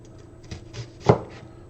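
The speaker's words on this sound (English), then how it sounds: "We're just gonna cut those into really small pieces." A knife cuts green onions into small pieces on a board, giving a few soft, separate chops with one sharper, louder stroke near the end.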